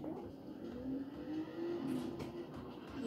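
A BMW i8 electric sports car drives in the video game Forza Horizon 4, giving off a steady, fairly quiet engine hum with a rising tone midway and no talk over it.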